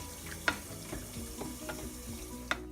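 Meat sauce with beef heats in a pan, giving a soft continuous bubbling sizzle broken by two sharp spitting pops, one early and one near the end.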